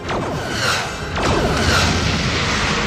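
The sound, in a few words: torpedo hitting a starship, audio comic sound effect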